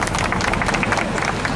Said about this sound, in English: Let's give a round of applause for Ted.